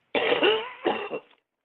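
A single close, harsh cough burst followed by a shorter second cough, then a faint throat sound.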